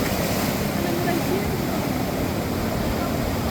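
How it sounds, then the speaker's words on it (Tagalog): Large waves churn across the Davao Gulf, a steady broadband wash of surf and wind buffeting the microphone, with a boat's hum faintly underneath and a voice speaking over it. "laki ng alon."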